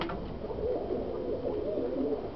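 Soft, rolling coos from a male pigeon kept in a Stara Zagora loft, close and continuous over a low constant hum, with no voices.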